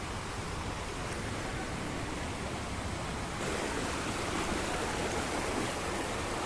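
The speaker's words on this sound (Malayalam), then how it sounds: "ഒരു അരുവി തന്നെ, ശരിക്കും പറഞ്ഞൊരു അരുവി മോഡൽ തന്നെ അങ്ങനെ പോകുന്നത്." Water from a forest stream and small waterfall near Vadakkanchery, Thrissur, rushes continuously. The sound is a dense, steady broadband roar with no voices and no pauses, and it grows slightly louder partway through.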